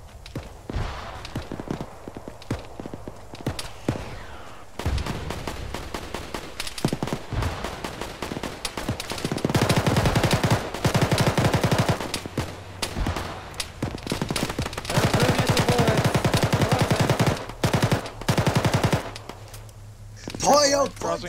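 Gunfire in an Arma infantry firefight: dense bursts of automatic and single shots, some near and loud, some distant, with quieter gaps between them and voices talking over the shooting.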